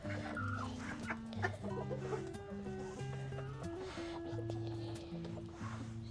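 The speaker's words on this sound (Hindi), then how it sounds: "मेरी हर वीडियो में मुर्गे भी जो है वो पूरा रौनक बना के रखते हैं" Roosters and hens cluck and crow steadily through an outdoor scene, layered with other farmyard calls at moderate loudness, with no break in the animal chatter.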